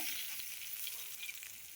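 Curry leaves, mustard seeds and dal crackle and sizzle in hot oil during tempering for a millet kichadi, a steady soft hiss with faint pops and no voices.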